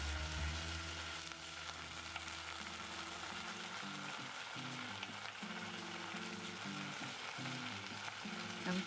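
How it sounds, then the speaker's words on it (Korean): Onions and garlic sizzle and fry in a pot as the base for a sweet and savory one-pot carrot soup, a quiet, steady crackling hiss with faint stirring throughout. "마늘을 넣고 천천히 볶다 보면 양파의 당분이 빠져나오면서 밤색 누룽지가 붙기 시작할 거예요."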